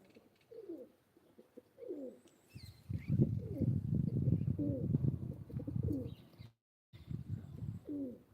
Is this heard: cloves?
no